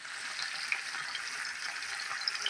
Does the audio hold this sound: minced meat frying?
yes